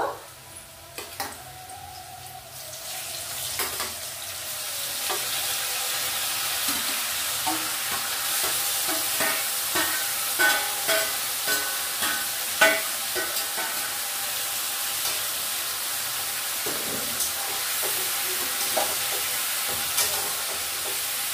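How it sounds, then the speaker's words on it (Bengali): Small chuno fish fry in a hot pan, a steady hissing sizzle that swells as they go in, punctuated by repeated scraping stirs of a spatula, close up with no talking. "এবার আমি এই চুনো মাছটা আমি দিয়ে দেব।"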